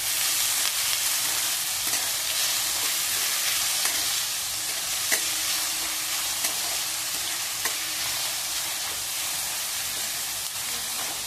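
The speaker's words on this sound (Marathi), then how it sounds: "कांदे व्यवस्थित मस्त असे गुलाबी रंगावर परतून घ्यायचे" Three finely chopped onions sauté over a full flame in a pan for egg masala, giving a steady loud sizzle and hiss throughout with occasional stirring clicks.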